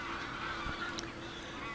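A wild goose gives a few short, high honking calls in quick succession, fairly clear over a steady low background hum, with no voices.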